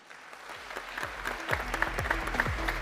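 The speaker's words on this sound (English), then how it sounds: "A big round of applause for Mr." Audience applause at an esports cycling world championship finals event, a modest, steady patter of clapping that swells slightly and holds under tonal background music with a thumping low beat.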